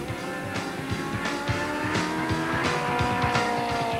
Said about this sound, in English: Richard Sorensen was leading the challenge from the other Class D frontrunners, where some close racing had developed.